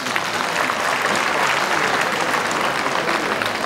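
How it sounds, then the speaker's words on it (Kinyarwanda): A crowd gives the children a warm round of applause at a Catholic cathedral parish school event in Ruhengeri, with dense, steady clapping close by that holds at full strength for the whole stretch. "mubahe amashyi menshi"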